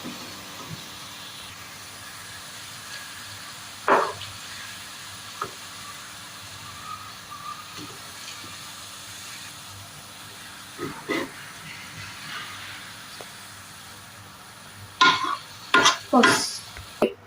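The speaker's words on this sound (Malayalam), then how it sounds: "ഉപ്പ് ആഡ് ചെയ്ത് കൊടുക്കുമ്പോൾ സവാള പെട്ടെന്ന് ഫ്രൈ ആയിട്ട് കിട്ടും" Sliced onions deep-frying in hot oil while cooking a Kerala chicken biryani, a low steady sizzle broken by occasional louder scrapes and stirring clatters, with a cluster of sharper clinks near the end.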